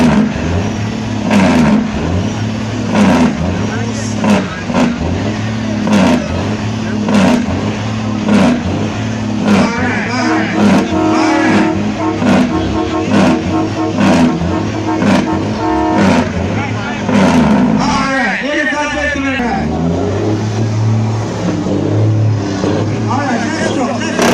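A loud truck engine revs repeatedly in steady surges, then roars up sharply near the end as the truck accelerates close by at a truck festival in Jamaica.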